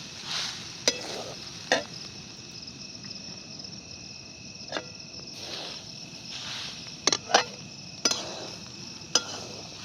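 Grated fresh coconut being stirred and dry-roasted in a pan for coconut barfi: a soft steady sizzle with a faint high hiss, broken by occasional light scraping and clinking strokes of a spoon against the pan.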